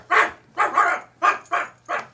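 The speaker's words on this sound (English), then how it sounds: "Each time, same reaction from Liv's dog" Five sharp, loud dog barks come in an uneven rhythm with short pauses between them, heard alone and close, used as a sound effect in a radio drama.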